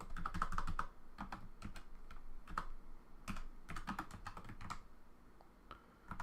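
Computer keyboard keys tapped in quick, irregular bursts of soft clicks, close but quiet, with short pauses between runs and no voices.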